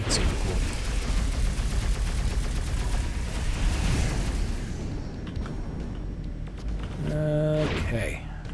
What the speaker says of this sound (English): this is like a Gatling gun where it keeps firing faster and faster